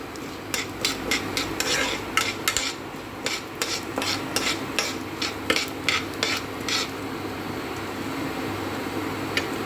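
Lentils are stirred and roasted in a pan for gooseberry chammanthi, a series of scraping strokes of a spoon against the pan over a low steady background hum, pausing after several seconds.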